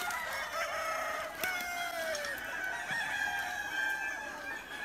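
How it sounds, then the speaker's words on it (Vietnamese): Roosters on a grass-fed chicken farm crow in drawn-out calls with some clucking, faint and distant, overlapping one another across the whole stretch. "toàn là gà trống các bạn."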